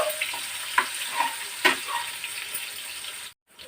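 Paneer pieces fry gently in a pan, a steady sizzle with a few clinks and scrapes of a spatula, close up, before dropping to near silence.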